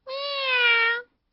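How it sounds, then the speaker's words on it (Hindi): A cartoon cat gives a single drawn-out meow, bright and close, lasting about a second with no talk over it. "बिल्ली यहाँ पर?"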